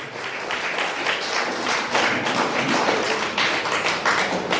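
Dense, lively applause fills a hall during a golden jubilee celebration, many hands clapping at once with sharper taps standing out, loud and sustained from start to finish.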